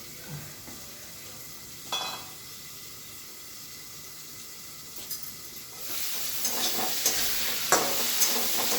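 Potatoes fry in a covered pan over lowered heat, giving a steady soft hiss that swells louder and brighter in the last few seconds, with a few faint clinks along the way.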